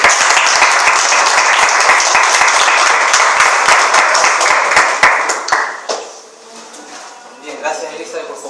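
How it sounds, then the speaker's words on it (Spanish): A church congregation claps at an evangelistic workshop, brisk crisp applause for about five seconds that thins out and stops, followed by quieter room sounds and faint voices. "Quiero que damos un aplauso."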